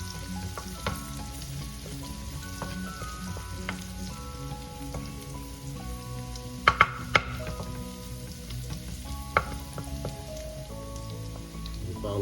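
Garlic sautés in a pan for sautéed cabbage, a continuous soft crackling sizzle with a few sharp pops and light utensil clicks, close and unvoiced.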